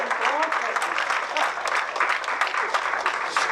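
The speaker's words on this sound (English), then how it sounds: "You can clap if you'd like." Audience applause at a Catholic Charities 100th anniversary event welcoming Bishop Howard Hubbard, a full steady round of clapping from a crowd with a few voices talking underneath.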